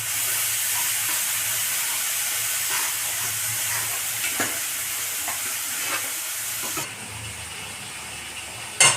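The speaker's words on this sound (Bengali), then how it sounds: "এবার গ্রেভিটাকে সুন্দর করে কষে নেব।" Spicy gravy with chilli powder sautéed and stirred in a pan, a steady loud sizzle and hiss with occasional scraping strokes, the frying noise dropping suddenly near the end.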